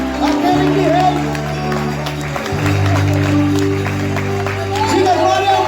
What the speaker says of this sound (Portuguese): Aplauda mais forte aquele que vive, aquele que reina.